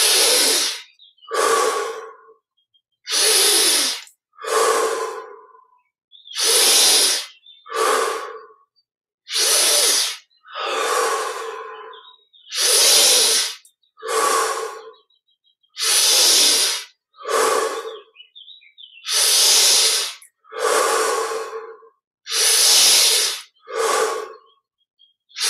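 Deep, slow breathing during a guided yoga meditation, with long inhales and exhales repeating about every one to two seconds, close and loud with short silent pauses between breaths, no talk.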